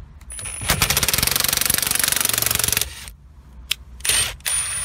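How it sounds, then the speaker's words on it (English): A bolt puller presses off a part on a 2008-2012 Ford Escape during ignition lock module replacement: a loud, rapid metallic rattling run ends abruptly, followed by a few sharp clicks and clanks close by. "It'll be an initial pop and that's it."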